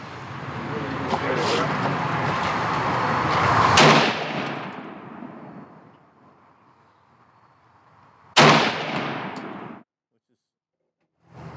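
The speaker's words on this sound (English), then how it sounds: "First time shooting AR." A Ruger AR556 AR-15 rifle fired by a first-time shooter, with two rapid strings of loud, close shots and a pause between them; there is no talk.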